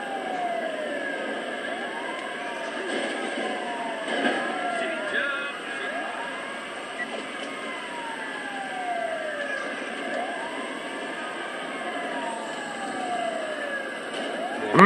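Ambulance siren in the video game Grand Theft Auto 5, a wailing rise-and-fall cycle repeating steadily for about fifteen seconds, mixed with game traffic and engine noise and no speech.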